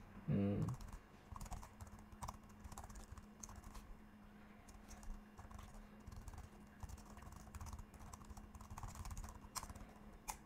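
Keystrokes on a computer keyboard while entering a MongoDB command in a console, with a burst of clicks at the start, then steady light tapping continuing close by over a low hum.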